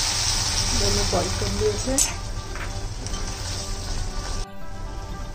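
Butter sizzles in a pan with boiled sweet corn, a steady bright hiss running throughout while a person talks over it.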